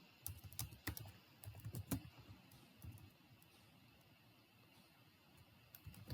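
Typing on a computer keyboard while writing Python code, with quick irregular clusters of key clicks in bursts, then a quieter lull before a few more taps, close and fairly faint.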